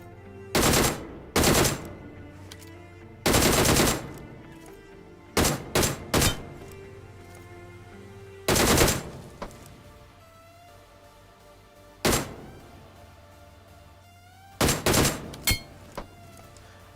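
Gunfire in the mobile game BGMI comes in loud, sharp bursts and single shots scattered across the clip, separated by quieter stretches of game ambience, with no talking.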